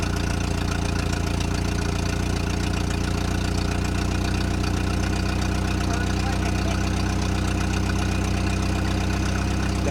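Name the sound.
old Ford Fiesta engine fast idling after first start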